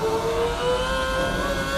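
2007 McLaren MP4-22 Formula 1 car at full throttle on the Nürburgring, a high, rising engine whine climbing steadily in pitch as it accelerates, loud and close, with no talk.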